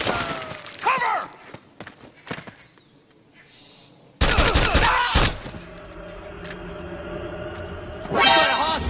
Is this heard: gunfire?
yes